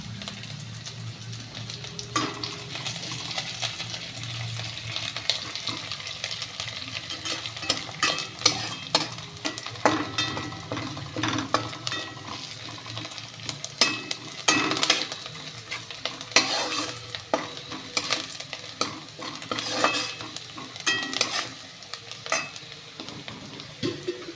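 Potatoes fry in hot oil with green chillies and curry leaves, a continuous sizzle broken by frequent scraping stirs of a spoon against the pan, close and fairly loud with no talking.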